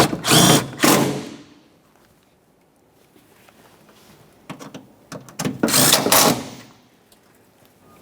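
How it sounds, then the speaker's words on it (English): A cordless power tool driving 10mm bolts on a Toyota Sienna, two loud close bursts of whirring at the start and another pair near the end, with quiet handling noises in between. "Let's tighten those 10mm bolts."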